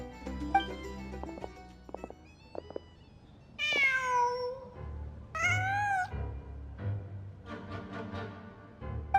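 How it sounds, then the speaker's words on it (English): An in-game cat in Genshin Impact lets out several clear, close meows, two of them long and rising, with a soft ambient music bed underneath and no talking. "Huh. Just a cat."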